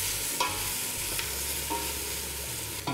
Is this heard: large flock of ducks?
no